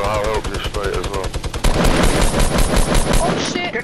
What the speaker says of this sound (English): Actually, go ahead, minigun it.